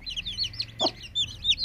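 A mother hen clucks low once amid a steady stream of high, rapid peeping from her chicks nestling under her, close and clear with no talk.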